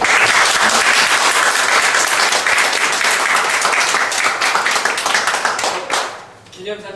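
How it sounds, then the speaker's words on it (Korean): Forum audience applauding a visiting professor after a lecture, loud close clapping with distinct individual claps that thins and fades near the end, followed by a voice speaking. "신윤 교수님께 박수 한번"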